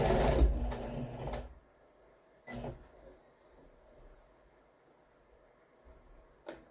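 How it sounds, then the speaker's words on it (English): Sewing machine stitching Velcro onto a couch cover, with a short burst of motor whir at the start followed by quieter handling clunks and a couple of brief knocks. "I'll go ahead and stitch the Velcro across the opening that I left there"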